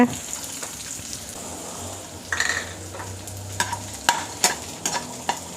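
Garlic, shallots and dried chillies fry in a pan for a spicy garlic chutney, a low steady sizzle with a spatula scraping and clinking now and then while someone speaks briefly.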